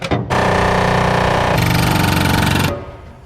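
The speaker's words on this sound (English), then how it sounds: "Air hammers are freaking crazy." An air hammer rounds off the corner of a metal plate during race car pedal fabrication, a loud, close, rapid pneumatic hammering burst lasting a couple of seconds, shifting pitch midway before stopping.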